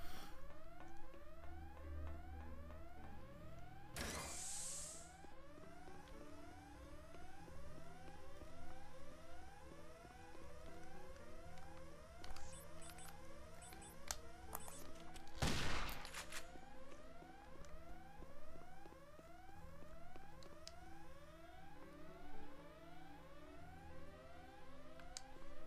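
Alarm blaring in the video game Headhunter, a repeating rising siren pattern running steadily throughout, loud and continuous, with gunfire-like bursts mixed in and two sharp noisy bursts breaking through.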